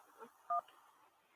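One short touch-tone telephone beep sounds as a caller is put through on a radio call-in show. It is brief and clear against quiet, faint background noise.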